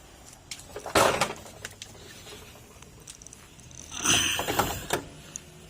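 A rear wheel brake drum spins after its brake lining is replaced, making scraping, whirring mechanical rubs in two loud bursts with faint clicks between them, close by.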